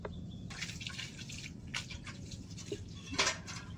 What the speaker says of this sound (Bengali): এবার এর মধ্যে সরষের তেল দিয়ে দেবো।